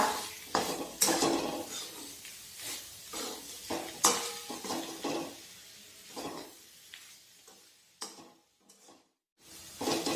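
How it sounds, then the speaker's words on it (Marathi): A spoon stirs salt into eggplant bharit in a pan, with repeated scraping and clinking strokes against the metal over a soft sizzle, close by and irregular, with a few quiet pauses. "आता आपण हे सर्व छान मिक्स करून घेऊया"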